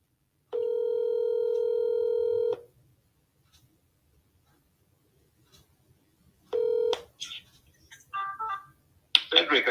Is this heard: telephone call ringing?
yes